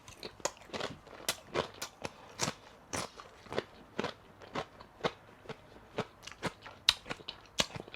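Loud, sharp crunches from biting into crispy fried chicken, repeated in an irregular rhythm up close, with no talking.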